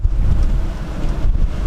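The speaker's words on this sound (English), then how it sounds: "It's windy" Gusty wind buffeting a microphone, producing loud low rumbling bursts that rise and fall over a couple of seconds.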